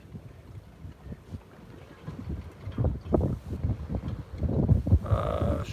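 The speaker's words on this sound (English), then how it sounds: "The wind really picked up." Wind blows over the sea around a sailboat, gusty rumbling buffeting that builds in strength, with water sloshing and rigging or hull noises scattered throughout.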